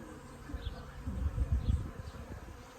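Several bee swarms gathered in one place outdoors make a dense, continuous buzzing hum, moderately close, swelling in the middle and easing off toward the end.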